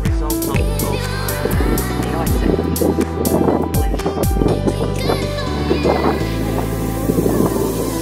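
Wind gusts buffet the microphone outdoors at a Stellenbosch wine farm near Cape Town, South Africa, with rumbling bursts and scattered knocks while people talk over it.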